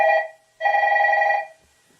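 A telephone bell rings in two electronic trills, a short burst and then a longer one, clear and moderately loud with quiet between them and no talking.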